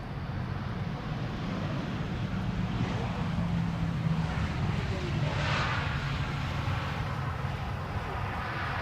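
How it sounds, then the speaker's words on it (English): Emirates Airbus A380 landing on the center runway at Schiphol, with a steady, continuous low roar of engines and thrust reversers held at an even level throughout, heard from a distance amid wind noise. "that was the Emirates A380 having arrived on the center runway"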